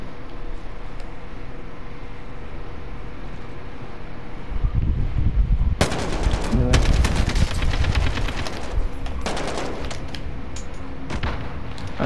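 AK rifle gunfire in the video game Warzone erupts midway as rapid bursts of loud shots, with steady wind-like background noise before and after.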